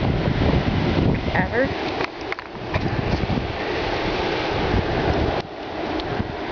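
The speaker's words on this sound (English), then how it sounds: "Wind gusts of 200 kilometers, and as you can see, it's strong enough a wind that it just opened the door on me." Powerful windstorm gusts of about 200 km/h roar across open Saskatchewan ground in a graupel blizzard, a loud buffeting rush pounding the microphone with brief dips, while someone speaks briefly.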